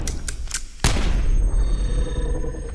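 Several quick gunshots pop in Counter-Strike, followed by one louder, sharp close shot that rings out into a low rumbling tail.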